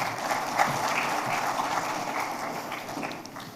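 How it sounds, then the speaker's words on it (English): Audience applause for a hotel-industry investment conference panel, a short burst of moderate clapping heard in a large hall with no talking over it. "Please give them a round of applause."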